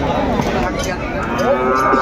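A 4.5-month-old Sahiwal bull calf at a cattle market gives one long, loud, drawn-out moo close by, filling the whole stretch against busy outdoor background noise.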